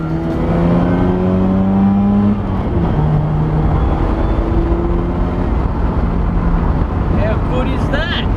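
A Mazda RX8's 13B rotary engine with issues runs and revs, its buzzy note rising and falling through several throttle blips, close and loud, while people talk over it.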